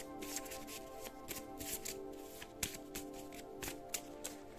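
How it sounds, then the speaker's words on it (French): Cards from an oracle deck of plant and flower messages being shuffled by hand, a close run of soft riffling flicks and taps repeating quietly for several seconds. "on va tirer une carte"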